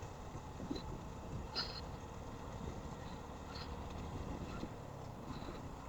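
A motorbike running along an empty road early in the morning, with a steady low rumble and a broad wash of wind noise across the microphone, fairly faint and even throughout, with a few light ticks and no talking.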